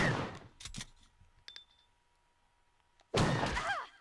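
A gunshot in the Resident Evil video game: a loud sharp burst that returns after a quieter stretch, preceded by a few shorter thuds. Brief and close, with no talk over it.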